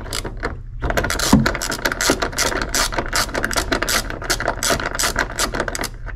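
An 8 mm wrench works a bolt loose on a BMW door panel, producing a close, continuous rapid ratcheting clatter with dense metallic clicks throughout.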